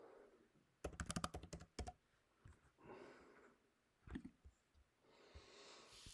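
Typing on a computer keyboard: a quick burst of rapid keystrokes, then a pause and a few more scattered clicks, quiet and close, with faint breathing between.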